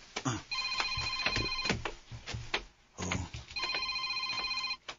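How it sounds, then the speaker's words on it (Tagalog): A cellphone rings with a repeating electronic ringtone in two bursts separated by a short gap, fairly loud and close, with a pulsing, chiming melody. "iyang cellphone. Yung bagting."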